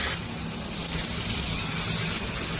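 Curry leaves and garlic hitting hot oil with roasted urad dal: a loud, close, hissing spray of sizzling that starts abruptly and holds steady throughout, with no voices.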